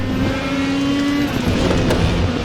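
An Indycar's engine in RaceRoom Racing Experience at the Spa circuit holds a loud, steady high-pitched drone from close onboard, with a slight pitch shift partway through and faint tyre noise underneath.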